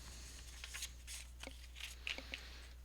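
Cards shuffled together on a tabletop during a playtest of the board game How to Host a Dungeon, several soft, quick riffling and slapping bursts, faint and close, over a steady low hum, with no talking.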